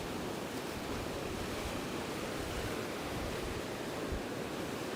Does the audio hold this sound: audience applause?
no